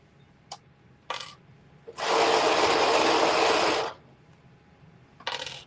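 A sewing machine runs one steady, loud burst of about two seconds while one side of a seam is sewn, with a few short mechanical clicks and taps before and after it.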